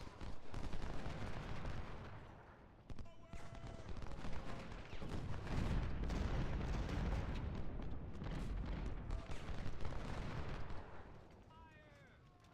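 Musket volleys and scattered gunfire from a Civil War battle in Ultimate General: Civil War, repeated booming cracks over a continuous rumble of distant firing, with a voice talking over parts of it.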